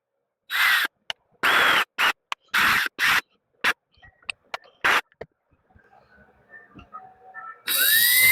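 A power drill runs in several short bursts while mounting a Starlink dish, each whine starting and stopping abruptly with scraping and handling noises between, then a longer sustained run at the end.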